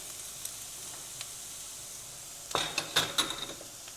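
Onions frying in a pan as ground red pepper is added, a soft steady sizzle that turns into a burst of louder crackling and spatter with several clinks of a utensil against the pan.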